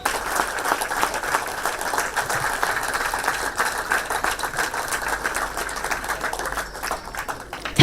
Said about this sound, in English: I appreciate if we give our Chief Minister a standing ovation with